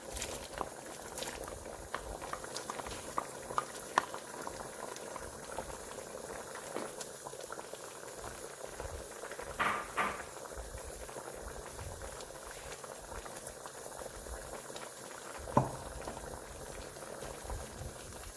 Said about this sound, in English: Let's go ahead and drop our kernels in there.